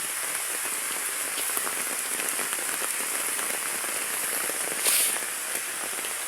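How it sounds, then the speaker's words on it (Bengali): Rain pattering on a brim-full village pond after two straight days of rainfall, a loud, dense, even patter of countless drops striking water and nearby surfaces, with one brief brighter splash near the end. "লাগাতার টানা 2 দিন বৃষ্টি।"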